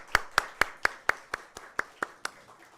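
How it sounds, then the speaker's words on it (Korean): A church congregation claps for the choir in a quick, even rhythm, about ten crisp claps in a row that fade slightly toward the end. "우리 찬양대에게 격려의 마음 담아서 크게 박수 한번 할까요?"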